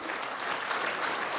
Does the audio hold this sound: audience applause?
yes